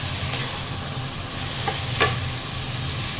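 Frozen lechon kawali being stirred in a hot pan as it fries, a steady close sizzle with a scrape of the utensil now and then, no voices.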